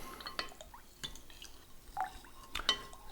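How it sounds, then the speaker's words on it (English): Water being stirred in a jar while making lactobacillus serum, faint and close, with sparse drips, light clinks of glass and small liquid splashes spaced irregularly across the quiet clip. "I've been stirring now for 2 or 3 minutes, and the water's gone nice and cloudy"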